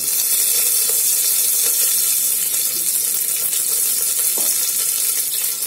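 Crushed garlic sizzles in hot oil with cumin and mustard seeds, a steady loud hiss with small crackles and pops and no talk.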